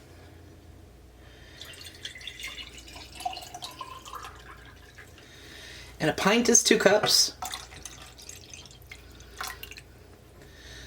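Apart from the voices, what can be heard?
water being poured into tomato sauce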